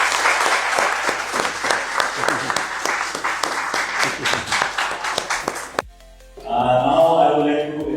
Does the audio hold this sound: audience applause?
yes